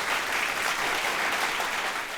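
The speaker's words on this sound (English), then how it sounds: "with a huge round of applause, please welcome on stage Dr." A conference audience at India Pharma Week 2019 claps in a dense, continuous round of applause that stays loud and even throughout as a new speaker is welcomed on stage.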